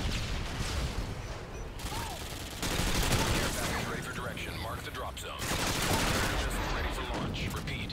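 Rapid AKS-74U automatic gunfire in Call of Duty Modern Warfare 2 Remastered, dense bursts of shots in two loud stretches, with faint speech in the mix.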